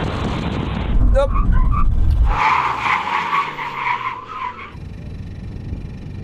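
Car tyres screech as the brakes lock in an emergency stop during a brake test, a loud sustained squeal rising after a rumbling approach and then cutting off as the car halts; a voice talks over the start.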